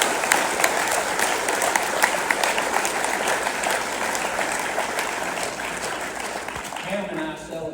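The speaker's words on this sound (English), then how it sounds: "Let's give them a round of applause." An awards banquet audience gives a loud round of applause to honoured family members. Dense, sustained clapping with sharp individual claps dominates, then fades near the end as a voice begins.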